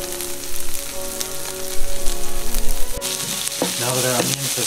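Onions, green onions and garlic sweat in a hot pan with salt, a steady, loud close-up sizzle that hisses continuously, with brief stirring movements partway through.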